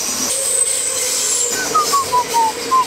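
A train runs along a railway track beside a busy cycle path, its wheels squealing steadily with a high whine and a descending string of screeches, close and loud, with no talk.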